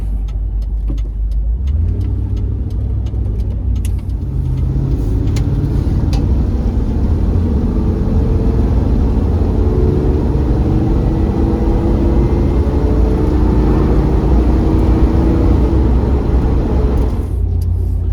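A 1987 Range Rover Classic with a 3.5 EFI engine, heard from inside while driving: a loud, steady low engine and road rumble that holds for the whole stretch, with some faint clicks early on.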